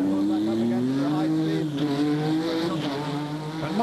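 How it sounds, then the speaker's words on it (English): Indy race cars scream around a hairpin turn on the Vancouver street circuit during 1991 qualifying. Loud high-revving engines whine steadily and shift pitch as the cars brake and accelerate through the corner, with no break in the noise. "Almost lost in the varoom of high-speed engines are the voices of those worried"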